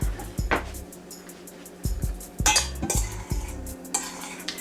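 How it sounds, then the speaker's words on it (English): A spoon stirs baking ingredients together in a bowl, giving a run of scraping, clinking strokes in an uneven rhythm, close and fairly loud, with no talking. "Pour it in. Get out my spoon and stir it together."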